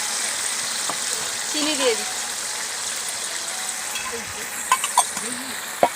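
A Bengali chorchori cooks down in a pan, giving a soft, steady sizzle beneath a voice, with a few clinking stirs near the end.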